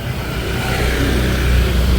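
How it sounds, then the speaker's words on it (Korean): A motorcycle engine rumbles and revs nearby on a busy local alley street in Da Nang, Vietnam, steady and loud throughout with broadband traffic noise. "그냥 좀 오토바이 소리가 좀 시끄럽긴 한데요"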